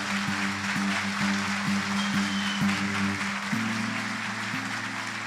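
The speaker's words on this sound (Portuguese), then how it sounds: "Se você crê, aplauda Ele bem forte." A church congregation claps steadily together as sustained keyboard chords play underneath, making a diffuse wash of applause throughout.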